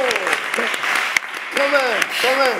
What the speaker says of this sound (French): Mais ça mérite des acclamations.